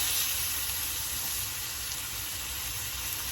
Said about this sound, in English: my pan is screaming hot over here, so I'm going to go on and add my beef shanks in